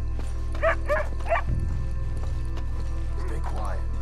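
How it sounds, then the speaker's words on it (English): A dog barks a few times in Red Dead Redemption 2, short mid-distance yelps spread across the clip over a low steady game ambience, with people talking. "I hear a dog."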